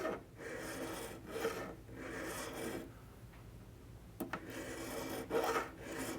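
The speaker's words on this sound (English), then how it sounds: "We're going to cut on each side, and you can see I'm tilting the file." A metal file rasps across a guitar fret on an archtop guitar in a series of rhythmic strokes, each a close, gritty scrape, with a brief quiet pause midway before the strokes resume.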